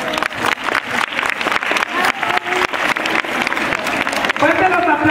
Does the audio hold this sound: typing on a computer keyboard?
no